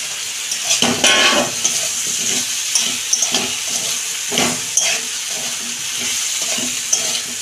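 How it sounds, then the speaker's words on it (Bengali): Cauliflower and potatoes being sautéed in spice paste, a steady close sizzle with repeated rhythmic bursts of stirring and scraping against the pan, the spatula knocking the metal a few times. "এটা দিয়ে আমি একটু কষাবো 2 মিনিট"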